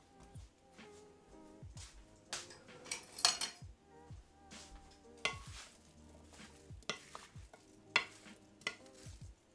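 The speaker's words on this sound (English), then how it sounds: "but I need to stir it first." A spoon stirring food with cucumber in a pot, scraping and clinking against the metal in an irregular rhythm over a light background sizzle and steady music, fairly close.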